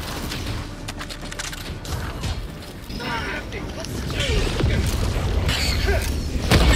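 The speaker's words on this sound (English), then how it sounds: "Why so many exploding plants?" Exploding plants in the video game Helldivers II, a string of heavy booms and crashing bursts with mechanical clatter, growing louder and denser toward the end.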